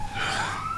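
A police-style emergency siren sound effect wails loudly and alone, its tone rising steadily through a short sweep.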